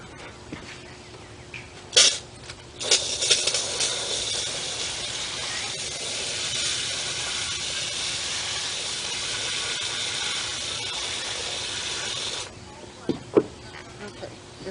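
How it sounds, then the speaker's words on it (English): Water sprayed from a hose or sprayer onto winter-sown plant containers outdoors, a steady broad hiss lasting about ten seconds, with a few brief knocks and handling sounds before and after. "Okay, so now I'm going to spray it with water,"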